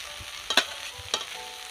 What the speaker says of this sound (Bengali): এবার আমি ভেজে রাখা ডিমগুলো সব দিয়ে দেবো